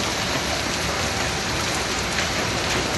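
A dense, steady roar of rain and hail pounds a surface during a storm in Riyadh, Saudi Arabia, loud and unbroken for the whole stretch.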